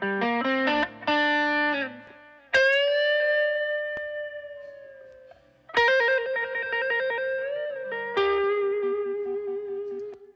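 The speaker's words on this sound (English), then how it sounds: "So you can hear a very obvious increase in the volume of the echoes." Lead blues guitar phrases with an echo effect, sustained bent notes ringing out as repeating echoes that jump noticeably louder after a switch, with no talk over them.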